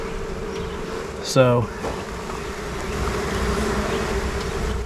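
Honeybees buzzing steadily while being moved from a swarm box into a hive, a constant close drone with a brief louder pitch-sliding buzz of one bee passing; a voice says a word.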